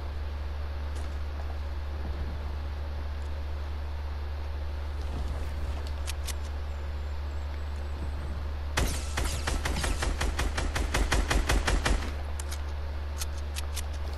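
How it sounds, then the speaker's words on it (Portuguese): In a video game, after a stretch of low steady hum with a few faint clicks, a rapid burst of sharp gunshots rattles off for about three seconds, then stops. "tem alguém atirando no cara"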